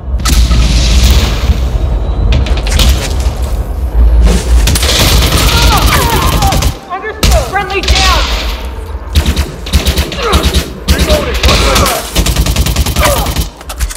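Heavy, sustained gunfire and booming shots from the video game Elite Dangerous Odyssey fill the scene, with dense rapid volleys, a brief lull midway, then more firing under faint voices.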